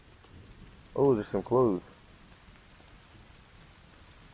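Steady rain patters as background ambience in the video game The Forest, continuing under a brief spoken remark; no distinct thunder crack stands out.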